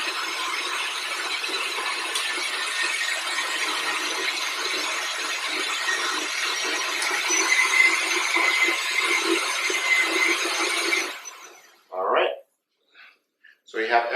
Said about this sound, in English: it's going to get loud, but that's part of blending